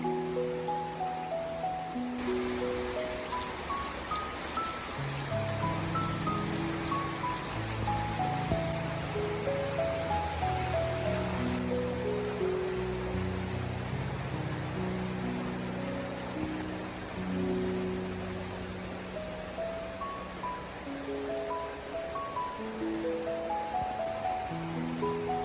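Outdoor rain during a rainy day in Sri Lanka, a steady, soft, even hiss that runs throughout beneath a louder melodic music track.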